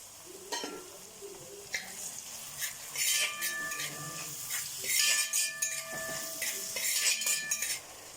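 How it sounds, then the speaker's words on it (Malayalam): Onions with salt being sautéed in a pan for a kakka (clam) roast, with a gentle sizzle under repeated metal spoon scrapes and clinks against the pan, close and fairly quiet, steady activity throughout. "ഇതിലേക്ക് ആവശ്യത്തിന് ഉപ്പും കൂടെ ചേർത്തിട്ട് വഴറ്റിയെടുക്കാം."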